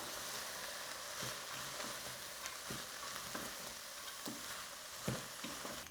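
Parsley stirred into a frying mixture of mushrooms in a pan for cottage pie: a steady bright sizzle with soft, occasional scraping knocks from the spoon, close and without speech.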